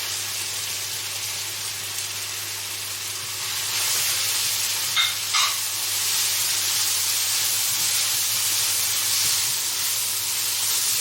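Onion, apple and carrot fry for borscht with a steady broadband sizzle and hiss, fairly close and even throughout, with a couple of brief clinks around the middle and no talking.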